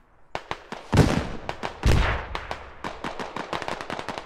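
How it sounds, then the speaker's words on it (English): Mortar shells landing among rocks in the military shooter game Squad, a dense run of sharp blasts and gunfire cracks, with two heavy booming impacts close together early on. "Mortars coming in on these rocks"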